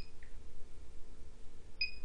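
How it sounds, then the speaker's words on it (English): Two brief, faint electronic beeps, one early and one near the end, over a low steady hum in a quiet room. "We're gonna wait for the beep."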